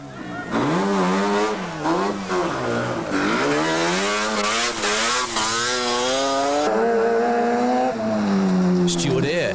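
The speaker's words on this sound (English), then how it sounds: "Mike Montgomery pushed his Mazda RX-7 along at a good pace, but found one corner particularly tricky in Special Stage 7." A Mazda RX-7 rally car storms through a gravel special stage at the 1985 Clarion Rally in New Zealand. Its engine screams loud and close, rising and falling through repeated gear changes and revs.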